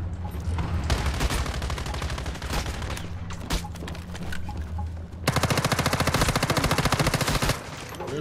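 Rapid automatic gunfire from the video game Once Human, sustained bursts filling most of the stretch, with a denser, evenly pulsed volley near the end.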